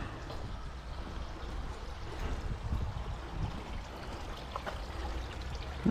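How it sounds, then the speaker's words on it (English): Running water of a woodland stream, a steady broadband rush and trickle holding at a constant level throughout, with no voices over it. "Where's that water noise coming from?"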